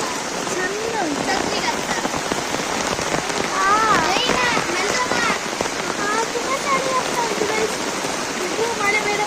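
Heavy rain pours down steadily outdoors, a dense continuous hiss with close drops spattering on a surface. Voices talk over it for much of the stretch.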